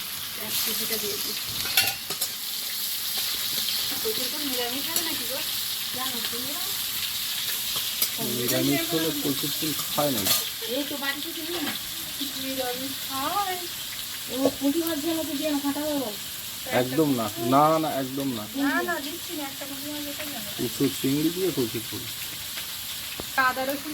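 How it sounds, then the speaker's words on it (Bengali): Hilsa fish and eggplant fry in oil in a kadai with a steady, close sizzle and stirring that runs throughout, while voices talk over it. "মাছগুলো ভেজে বেগুনটা ভেজে নিচ্ছে"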